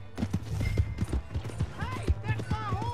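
Horse hooves clip-clop in Red Dead Redemption 2, a steady rhythm of close thuds running throughout beneath voices talking and a low engine-like hum.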